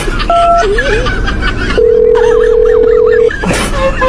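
Telephone dialing tones beep in short steady notes, followed by a longer held tone as someone calls back, while people talk and chuckle loudly over them throughout.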